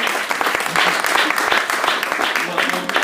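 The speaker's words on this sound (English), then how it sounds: "A round of applause for Ed." Applause from an audience at a political group's launch event, loud and continuous clapping with individual sharp claps audible, and voices murmuring beneath it.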